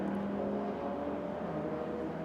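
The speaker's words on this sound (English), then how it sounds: "we can see another one of the Toyota MR2s coming through" Toyota MR2 race cars coming through on the Rockingham circuit in a Roadsports race, a steady droning engine note with a slight pitch sweep as a car passes at moderate distance.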